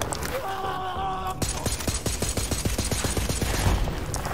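Rapid automatic gunfire from a weapon in the video game Borderlands 3, starting after a tonal hum and speeding up into a dense stream of loud, close shots.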